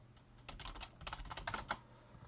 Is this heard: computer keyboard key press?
yes